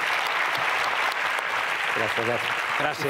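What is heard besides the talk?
applause for a speaker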